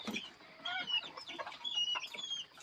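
Bantam chickens cluck and chatter at a morning feeding, several birds calling close by in quick overlapping bursts with a few brief higher squawks.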